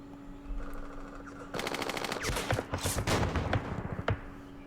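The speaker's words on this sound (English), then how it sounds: "We can do some firing though." Gunfire from the Vietnam war strategy game Campaign Series Vietnam during the Dien Bien Phu battle, rapid machine-gun bursts crackling in quick repeated volleys, loud and close, ending with a single sharp shot.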